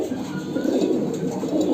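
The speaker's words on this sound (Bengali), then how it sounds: "তো এখানে কবুতরগুলো আছে" Pigeons coo softly in a cage at a small poultry farm, a low continuous murmur of several birds close by with no talk.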